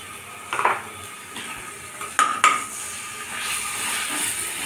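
Chopped onion with ginger-garlic paste frying in a pan, a soft steady sizzle broken by a few sharp metallic clinks of a spoon stirring against the pan.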